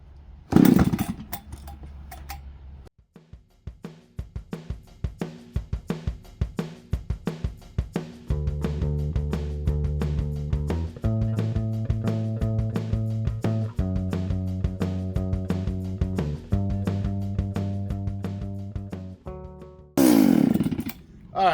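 A chainsaw fitted with a well-worn chain cuts through wood with a loud, buzzing engine roar that rises and holds under load for a long stretch. It is framed by sharp revving and handling noises at the start and end.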